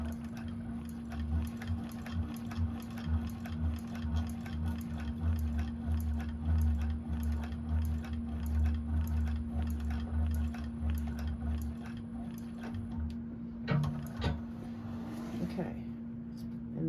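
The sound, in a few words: sewing machine (1341 cylinder arm) stitching down a bag pocket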